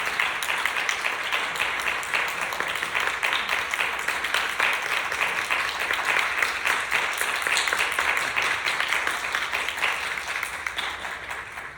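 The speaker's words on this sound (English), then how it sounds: "could we get a round of applause just for Mark?" A steady round of applause from an audience in a hall, dense and continuous clapping at moderate loudness for about twelve seconds, with no voices over it.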